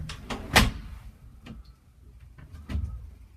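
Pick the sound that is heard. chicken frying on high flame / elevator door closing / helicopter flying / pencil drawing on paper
elevator door closing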